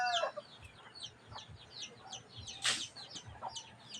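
Hen clucking softly in a few short, scattered calls, with other chickens and birds chirping around it in a quiet outdoor setting.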